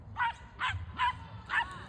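Dogs in a park bark four times in an even rhythm, each yip sharp and fairly close, with a low rumble of background noise between barks.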